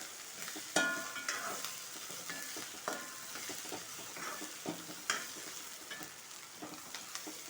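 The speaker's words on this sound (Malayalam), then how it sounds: "നന്നായിട്ട് ഒന്ന് വറുത്തെടുക്കുക" Dried red chillies and curry leaves roasting in a pan for semiya kichadi: a quiet, continuous crackling sizzle with frequent scraping and clinking of a stirring spoon, several sharper taps through it, no voices.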